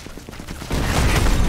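Tank rumbling in a Sniper Elite 4 multiplayer survival match, with rapid gunfire-like popping at first giving way to a loud, dense, low rumble that swells and holds.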